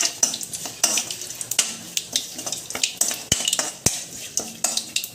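Soya chunks roasted in a pan and stirred with a metal utensil, giving steady sizzling under repeated scraping clicks and knocks against the pan, close and moderately loud, with no talking.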